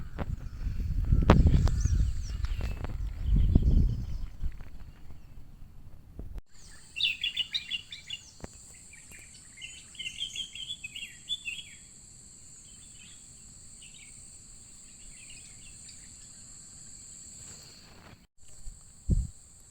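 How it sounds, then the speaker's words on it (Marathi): Birds chirp and twitter in scattered bursts over a steady high insect drone in a quiet open countryside setting in Konkan, after a few loud thumps at the start. "मस्त सगळ्याकडे नुसती पाखरांचाच आवाज येता"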